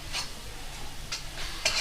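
Pasta made from leftover chapati being stirred in a pan with dhania powder and garam masala: soft scraping strokes of a spoon at a steady pace over a faint sizzle, quiet and close.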